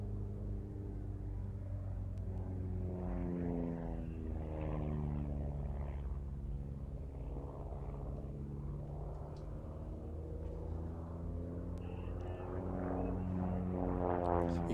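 A de Havilland military trainer aircraft with a Lycoming engine flies past at an airshow, producing a steady propeller drone with strong harmonic tones that shift in pitch as it moves, continuous and without talk.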